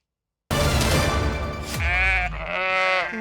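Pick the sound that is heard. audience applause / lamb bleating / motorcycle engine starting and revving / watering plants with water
lamb bleating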